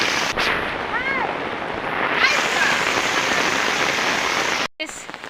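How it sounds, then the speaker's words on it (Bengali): Heavy monsoon rain pours down where boys are playing football, a loud, steady broadband roar that hardly varies, cutting out abruptly for a moment near the end. "মুষলধারে বৃষ্টি হচ্ছে, প্রচুর বৃষ্টি"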